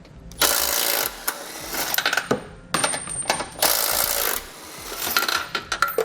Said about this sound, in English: now we'll remove the 4 18mm bolts on each side to remove our bumper beam